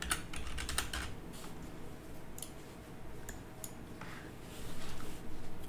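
Steady typing on a computer keyboard, close and fairly quiet, with quick runs of key taps that pause briefly and pick up again toward the end.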